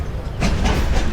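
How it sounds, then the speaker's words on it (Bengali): The Ekota Express rolls along the rails with a loud, broadband rumble and rhythmic clattering bursts, heard close from onboard with no talk. "ট্রেন চলতেছে"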